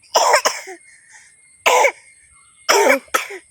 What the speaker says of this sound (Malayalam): ചുമ വന്നു കേട്ടോ ഗേസ്